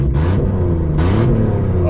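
A rickshaw engine with a cheap exhaust manifold runs loud and rough close by, a gritty droning rumble with uneven pulses, while people talk over it.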